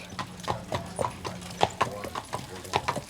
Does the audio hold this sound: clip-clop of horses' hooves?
yes